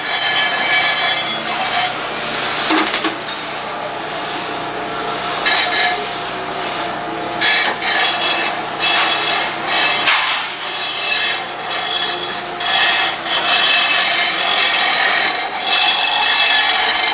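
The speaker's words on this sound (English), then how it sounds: "grinding down motor mounts" Grinding down metal motor mounts for a fuel cell setup with a power grinder, a loud continuous high-pitched whine and rasp lasting the whole stretch, surging and dipping as the tool bites, no talking.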